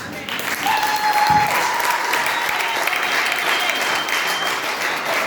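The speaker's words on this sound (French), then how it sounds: "Acclame très fort pour le Seigneur." A church congregation at a women's day service applauds and cheers for the Lord, loud sustained clapping from a large crowd with voices rising through it.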